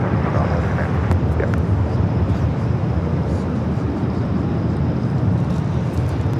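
An airliner takes off at LAX airport with a broad, steady roar of jet engines and wind rumble sustained throughout.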